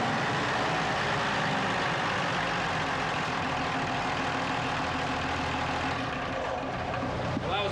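A gold dredge motor runs at partial throttle with a steady, fairly quiet engine drone that holds constant throughout, heard from a moderate distance with no voices.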